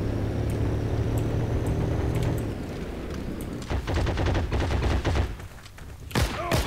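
Automatic gunfire in the online shooter Heroes & Generals: dense bursts and sprays of rapid shots over rumbling battle noise, with a sharp, loud volley near the end.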